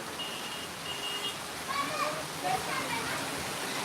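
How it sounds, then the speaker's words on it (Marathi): Heavy, cloudburst-like rain pours down steadily in a village, a dense continuous wash of noise, while children shout and voices call out faintly in the background. "जबरदस्त पाऊस सुरू आहे"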